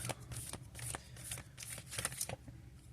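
Oracle cards being shuffled by hand during a card reading, a quick run of crisp riffling flutters repeating in short bursts, close and clear with no talk.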